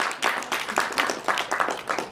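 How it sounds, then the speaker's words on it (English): An audience at a poetry reading claps for a poet, a lively burst of applause with a pulsing rhythm, moderately loud and with no talk over it. "so can you just all give Jessica a round?"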